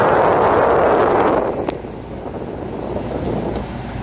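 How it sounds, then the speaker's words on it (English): Cold air blowing strongly from the dashboard air conditioning vents of a Hyundai Starex 12-seater van, a loud, steady rushing whoosh close to the microphone that eases slightly after the first second and a half. "Very cold and strong wind."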